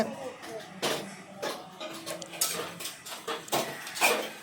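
A ladle scrapes and clinks against a pan while okra stir-fry is stirred, several irregular metallic knocks at close range, with soft talking in the background.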